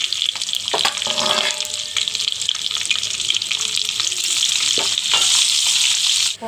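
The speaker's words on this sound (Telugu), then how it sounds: "నూనె మరిగింది, ఉల్లిపాయలు వేస్తున్నాను, జీలకర్ర అండి, ఆవాలు, మినపప్పు అండి" Onions, cumin, mustard seeds, urad dal and dried red chillies sizzle and crackle steadily in hot oil for a tempering, a dense continuous frying hiss with occasional stirring clatter.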